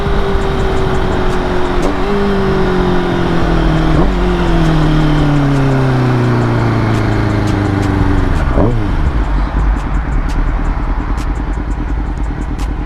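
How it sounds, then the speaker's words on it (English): A motorcycle engine revving steadily and loud up close, its pitch stepping down in a few distinct drops as gears are rev-matched during slowing, then settling into a rough, rumbling idle. "Gotta know how to do that rev matching for safe stops, man."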